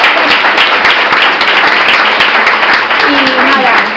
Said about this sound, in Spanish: un aplauso por ese premio